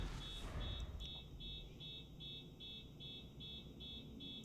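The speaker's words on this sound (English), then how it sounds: "somebody's car alarm is going off outside" A steady pulsing electronic car alarm tone repeats continuously over low road rumble, sounding somewhat distant, as though outside.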